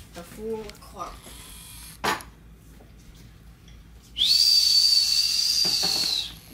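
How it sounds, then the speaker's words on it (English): A child whistles one long, steady, loud note lasting about two seconds at the end of the clip, after a few soft, brief sounds and a short burst of noise. "Good whistling, Rafael."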